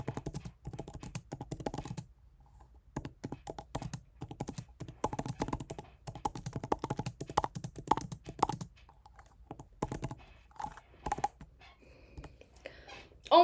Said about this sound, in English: I'm just gonna type it.